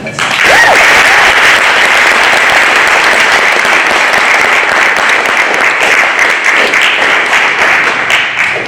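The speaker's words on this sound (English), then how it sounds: "So please join me in applause for Christine Hudson." A large audience claps for a speaker at a creative industries talk, with loud, dense applause that swells in the first second and holds steady before tapering at the end.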